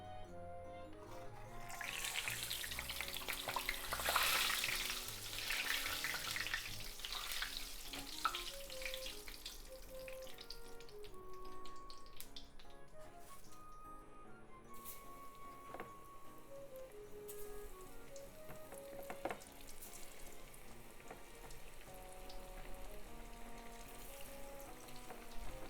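Karaage chicken seasoned with dashi frying in oil, a steady crackling sizzle with scattered pops, close and fairly quiet, running unbroken with no talk.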